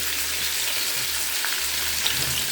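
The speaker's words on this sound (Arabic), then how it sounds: "وسيحت حتتين كده وبشوح اللحمه" Chunks of meat sizzling and frying in a hot pot, a steady broad crackle and hiss held close and continuous, with faint stirring movements and no talk.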